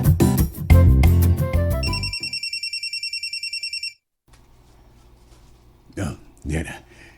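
A phone rings with an incoming call: an electronic ringtone repeats in short even bursts after some loud music, then stops as quiet room tone and brief talk follow.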